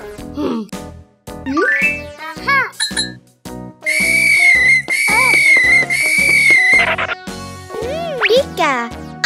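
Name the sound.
whistle being blown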